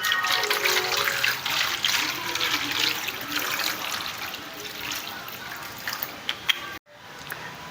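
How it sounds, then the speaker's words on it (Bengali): Water splashes from a tap onto boiled eggs in a pan to cool them, a steady close rush with little trickling accents that cuts off abruptly near the end, leaving faint background noise. "ডিমগুলি ঠান্ডা করার জন্য অল্প এতে জল দিয়ে দেব"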